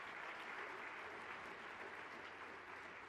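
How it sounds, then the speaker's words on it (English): Steady audience applause at a performing arts conference closing plenary, a large crowd clapping continuously at fairly low level with no one speaking over it. "Applause, please, for the conference committee."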